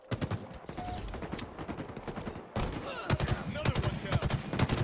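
Rapid video-game gunfire in a capture-the-flag match, repeated sharp shots and bursts close by, with a sniper rifle among the weapons, running almost nonstop with a brief lull midway.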